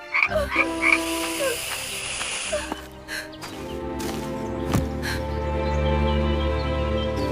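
Frogs croaking in a dense chorus with hissing, filling a room; loud layered croaks and trills near at first, shifting to a lower sustained rumble of calls.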